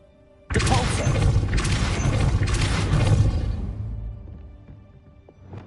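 A Depulso spell is cast in Hogwarts Legacy, giving a sudden loud burst of crashing, whooshing impact noise. It holds for a few seconds and then fades away, with no voices over it.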